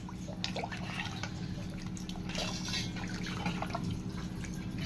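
Water trickles and drips into a pot of drumstick dal (munakkaya pappu) with a faint, steady splashing under a low constant hum.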